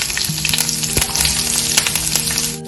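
Onion frying in two tablespoons of hot oil for Kathiawari cholay, a steady close sizzle with brief stirring clatters running throughout.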